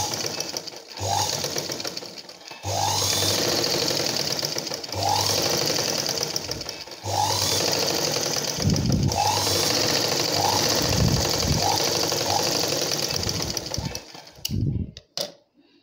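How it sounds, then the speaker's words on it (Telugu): A sewing machine stitches the edge of a blouse, running in several long steady whirring bursts separated by brief stops, close and loud, with no talking. "ఒక సైడ్ అంచు కుట్టుకోవాలి."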